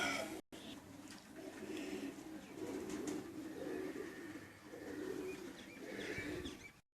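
Black-faced pigeons, a cross with Sharmeelay pigeons, cooing in soft, repeated throaty rolls that overlap one another, fairly close but quiet.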